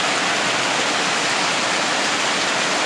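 Heavy monsoon rain pouring down in coastal Konkan in May, a dense, steady roar of falling water with no pauses, loud and close throughout.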